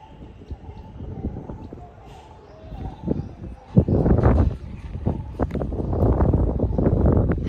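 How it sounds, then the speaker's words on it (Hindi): Strong wind blows outdoors under cloudy skies, gusting and rumbling against the microphone and growing louder and rougher toward the end, while someone talks. "पूरे बादल लग रहे हैं और हवा चल रही है बहुत ज़ोर से"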